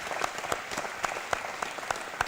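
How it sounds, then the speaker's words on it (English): A conference audience at an East African employability summit claps for a panel, with scattered, uneven claps popping out over a soft bed of applause, fairly close and lasting only a couple of seconds. "can I get you to applaud our fantastic panel who have touched?"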